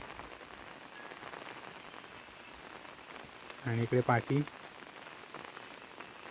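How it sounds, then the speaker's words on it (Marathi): Steady rain falls on surfaces during a heavy shower, a soft even hiss throughout, briefly overlaid by a short spoken remark. "पावसाची पण मोठी सर येऊन गेली"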